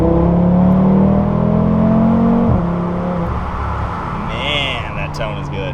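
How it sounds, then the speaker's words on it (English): An Audi RS3 five-cylinder engine fitted with an upgraded aftermarket exhaust revs up and holds a droning tone, then drops back with a rising whine near the end, heard close and loud. "Wow, what a unique engine this car has, and then when you upgrade it with that exhaust."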